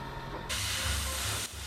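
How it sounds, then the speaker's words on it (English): An airbrush loaded with black paint gives a single steady hiss of about one second while priming 1:32 scale MiG-3 model parts, clear and close over quiet background noise. "And with the black still in my airbrush,"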